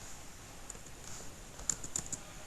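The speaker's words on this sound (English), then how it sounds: "we can clear that by typing in a simple command" Soft keystrokes on a computer keyboard, a short run of light, quick taps rising to a few clearer clicks near the end, faint and close with no talking.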